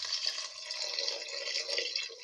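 Water pours steadily into a pressure cooker with a bright splashing trickle that rises and falls slightly, close up and without any talking.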